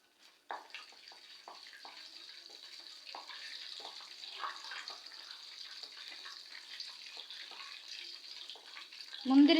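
Cashews fry in ghee in a pan while making the Tamil sweet akkaravadisal, a soft, steady sizzle with light crackling ticks throughout, fairly quiet and without talk.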